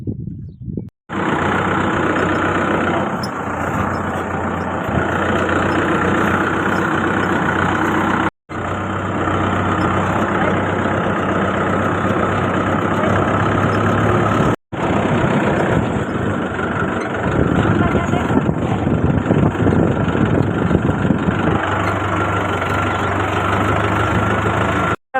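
A tractor engine runs steadily and loudly close by, a continuous rumbling drone broken by two brief dropouts, with no talking.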